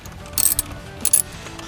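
A ratchet turns a 7mm socket to back out hex screws while a Corvette stereo is upgraded to a GPS unit, giving two short bursts of quick metallic clicking close up.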